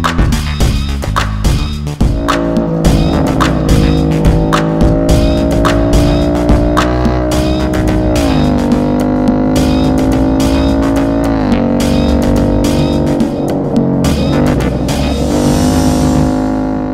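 A 2018 Ford Mustang GT Premium Convertible with automatic transmission revs its V8 loudly and close, the engine note rising and holding with rough harmonic growl throughout.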